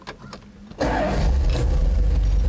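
A 1970 Dodge Challenger 340 V8 started with the key, a short cranking buzz and then a loud, deep engine catching at once and settling into a rumbling idle close by.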